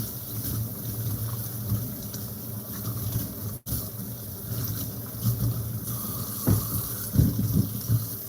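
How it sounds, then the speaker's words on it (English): Water runs steadily from a kitchen tap while fish is rinsed, a continuous splashing hiss with light clatter and a few soft knocks, close by. "the next thing will be to rinse the fish"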